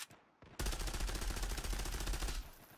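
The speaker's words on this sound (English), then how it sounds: "Okay, it's classical SMG. 25 bullets, oh my god." Rapid automatic fire from a CX4 submachine gun in the Zula shooter game, a dense loud burst of shots lasting about two seconds after a brief quiet lead-in.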